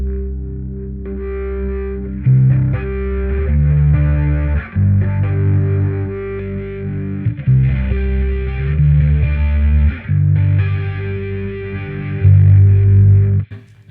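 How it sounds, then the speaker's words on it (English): Bass guitar played through a compact Darkglass rig with chorus, giving loud, sustained notes with a shimmering, distorted edge in a steady run of plucked phrases and no talking. "Let's try out the chorus with the different tones,"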